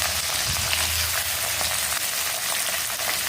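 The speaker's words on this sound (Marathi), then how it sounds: "सर्व चिप्स कढईमध्ये टाकून घेतले" Soaked potato chips tipped into hot oil with chilies in a kadhai for a fasting sabudana khichdi, a steady close hiss and sizzle with a brief low bubbling, no voices.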